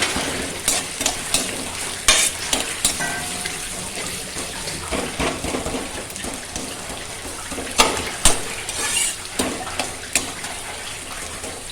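Chilli powder frying on low flame in a pan while being stirred, with repeated close spatula scrapes and clinks over a steady sizzling hiss.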